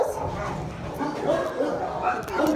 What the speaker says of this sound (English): She's a beautiful dog.